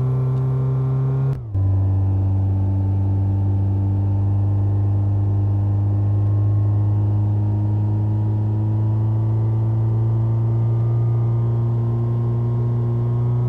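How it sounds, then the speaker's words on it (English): A car engine with a hole in the exhaust drones at a steady pitch, briefly dipping near the start, with a raspy, blatting hum running underneath throughout. "Sounds like there's a hole in the exhaust as well."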